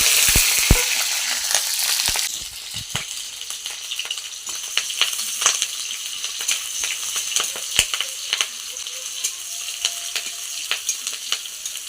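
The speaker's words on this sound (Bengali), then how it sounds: "যখন কথা পেঁয়াজ আর মরিচটা ভাজা হয়ে গেছে" Sliced onions and chillies fry in hot oil, starting with a loud, dense sizzle that settles into steady crackling and sharp pops, heard close up with no voices.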